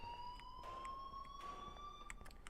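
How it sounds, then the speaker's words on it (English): A steady electronic alarm tone rings in the Life is Strange video game, holding a high pitch with a slight rise, moderately loud and continuous with no talk over it. "please turn off that alarm since that's your job"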